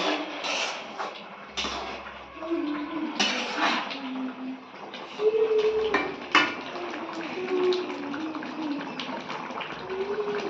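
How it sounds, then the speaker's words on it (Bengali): Chicken is being stirred in a cooking pot for a spiced chicken kasa, with repeated scraping and metallic clatter of a utensil against the pot, close up and irregular, alongside faint sizzling. "এবার পাল্টে নাড়িয়ে নিই, ভালো করে নাড়িয়ে নিয়ে আবারও আমি এটা বন্ধ করে দেবো"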